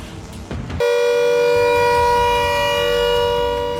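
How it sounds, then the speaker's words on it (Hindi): A loud civil defense air raid siren in a densely populated area of Meerut, India, starts up abruptly and holds a steady, piercing wail close by. "मेरठ में भी घनी आबादी वाले इलाकों में जंगी सायरन बजाया गया।"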